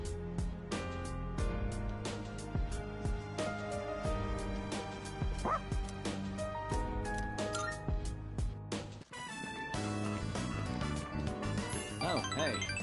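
A dog barks and whimpers in the Persona 3 Reload video game, the short yips sitting under steady, loud game music that plays throughout.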